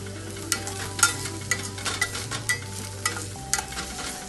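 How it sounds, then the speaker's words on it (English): Onions, ginger and garlic sauteing in a pan for a beef cutlet recipe, with steady soft sizzling and repeated light stirring scrapes and clinks every half second or so, close and moderately loud, no talk. "After about a minute of sauteing"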